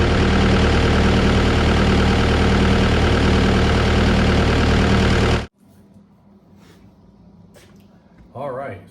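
A New Holland C232 track loader's engine idles loud and steady nearby, a dense mechanical drone that cuts off abruptly, leaving quiet room noise and a voice starting to speak.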